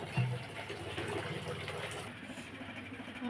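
Water running from a tap into a container, a soft continuous gushing flow with a low hum, fairly quiet and steady with no talking.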